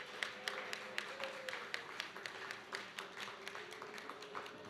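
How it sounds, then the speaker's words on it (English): Audience applause at a school athletic banquet: a steady patter of many hands clapping in a room, moderate and somewhat distant, with voices murmuring underneath. "So can we also give them all a round of applause?"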